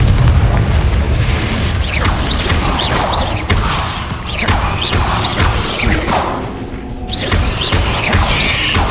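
A Confringo fire spell in Hogwarts Legacy goes off in loud, dense booming blasts with crackling bursts and rumbling, repeated over and over and filling the whole stretch.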